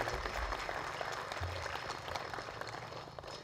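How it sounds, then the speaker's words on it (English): Audience applause at the East Kimberley Aboriginal Achievement Awards ceremony, a steady wash of many hands clapping at moderate distance, continuous and even throughout, slowly easing near the end. "give her also a round of applause again for this beautiful setting"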